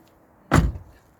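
A single solid thud of a Rover 45 car door shutting nearby, sharp onset with a short muffled decay in otherwise quiet surroundings.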